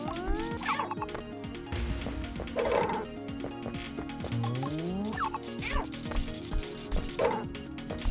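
A dog in a video game barks several times in short, sharp bursts spread across the stretch, with whimper-like yips and other game sounds layered between them.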